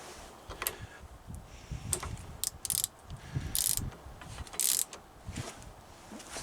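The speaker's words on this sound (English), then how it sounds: "Turn my torque wrench the other way around." A torque wrench ratchets and clicks as it is turned while tightening fork parts on a Triumph Bonneville T140 motorcycle, giving a series of close, fairly quiet mechanical clicks at uneven intervals.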